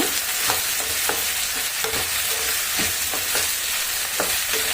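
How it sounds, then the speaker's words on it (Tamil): Onion and green chili sauté in a hot pan, with a loud continuous sizzle close by and regular scraping stirs of a spatula against the pan, and no voices. "வெங்காயம் நல்லா செவந்து வர வரைக்கும் நல்லா வதக்கி விட்டுடலாம்"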